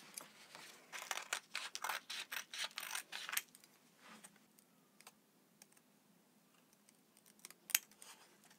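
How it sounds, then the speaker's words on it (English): Scissors snip through stamped green paper in a quick run of close, crisp cuts, then a few scattered slower snips and a sharp click after a quiet stretch. "Then I'll cut it out."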